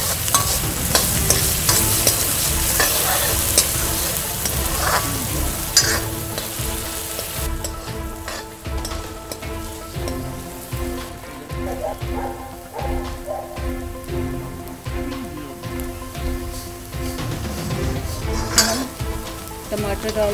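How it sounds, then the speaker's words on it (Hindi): Chopped onions frying in a hot pan for Punjabi sarson ka saag, a dense rain-like sizzle under repeated scraping strokes of stirring, loud and close, with faint cookware clinks. "गर्म होने के बाद सबसे पहले हम इसमें कटे हुए प्याज, डाल देते हैं। इसको ब्राउन होने तक हम चलाते रहते हैं।"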